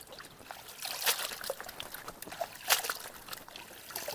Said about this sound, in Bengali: বেশি জলের ভিতরে ভালোভাবে নাড়িয়ে নাড়িয়ে ধুয়ে নিতেছি।